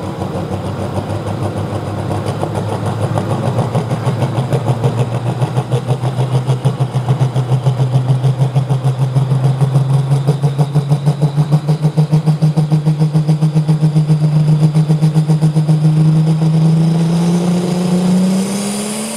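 A competing tractor's engine roars at a truck and tractor pull before stalling out, a loud, close, rapidly pulsing drone whose pitch slowly climbs over nearly twenty seconds.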